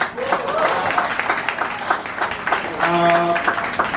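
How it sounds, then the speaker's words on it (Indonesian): An audience at an off-road adventure gathering claps for the organizers, a broad, steady wash of applause with voices mixed in across the whole stretch. "Jadi sekali lagi tepuk tangan buat panitia."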